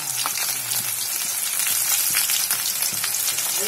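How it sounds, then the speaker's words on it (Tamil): Mustard seeds, garlic, cumin and onion fry in hot oil, giving a steady, close crackling sizzle with scattered pops and spatters throughout, with no voices over it. "இது எண்ணெய் காய வச்சு கடுகு போட்டுக்கோங்க அடுத்து வெள்ளப்பூடு போட்டுக்கோங்க அடுத்து சீரகம் வெங்காயம் ரெண்டையும் போட்டுக்கோங்க"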